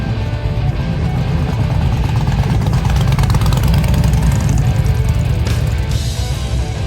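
Many motorcycle engines idling and rumbling at the Bikes on the Bricks bike show in Indiana, a steady loud low drone that carries on throughout with no talking.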